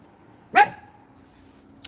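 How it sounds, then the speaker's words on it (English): A female dog lets out a single short, sharp bark close by, then a brief faint yip near the end, with quiet around both. "She finally barked."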